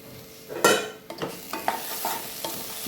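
Onion and chopped ginger sautéing in a pan, a soft steady sizzle punctuated by several stirring scrapes and knocks of a spatula, close and without voices.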